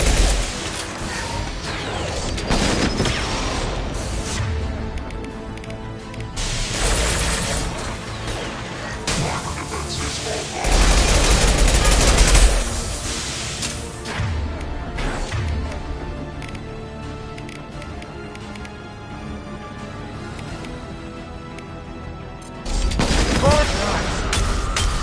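Rifle gunfire in Mass Effect 2 combat, loud volleys of shots with heavy booms and mechanical clatter running through the whole stretch, strongest bursts near the middle and end, with voices talking over it.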